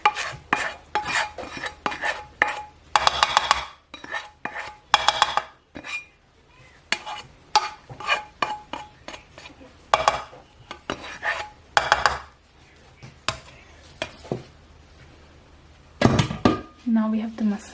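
Cooled cooked apple mixed by hand into raw longganisa sausage meat in a bowl, with repeated soft squelching and clinking of dishes and utensils in short bursts, and a person talking over it.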